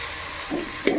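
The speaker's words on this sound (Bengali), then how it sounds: "পেঁয়াজ হয়ে গিয়েছে, আমি এবার আদা রসুন দিয়ে দিচ্ছি এর মধ্যে।" Onion, ginger and garlic frying for mutton biryani give a soft steady sizzle in a pan, with a brief stirring scrape near the end, close and moderately quiet.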